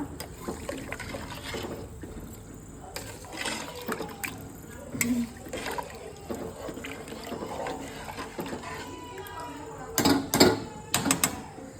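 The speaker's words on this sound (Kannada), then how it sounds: "ಈಗ ಇದಕ್ಕೆ ನೀರು ಎಷ್ಟು ಬೇಕು ನೋಡ್ಕೊಂಡು ಹಾಕೊಳ್ಳೋದ" Water is poured into a pressure cooker of chicken biryani in uneven splashy bursts, with louder gushes near the end, heard close by over faint kitchen background and occasional talk.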